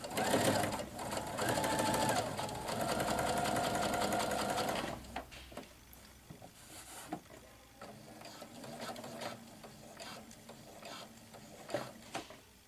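A sewing machine topstitches a double row along the bottom of a pocket on a retro schoolgirl dress, running in a loud steady whir for about five seconds, then stopping and restarting in short quieter bursts with small mechanical clicks.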